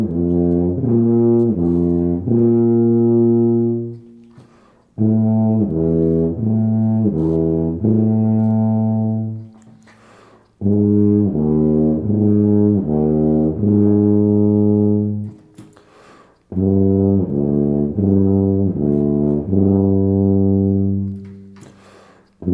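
A brass instrument plays a lip slur exercise, four loud phrases of smooth, connected notes moving between harmonics over several valve combinations, each separated by a short pause.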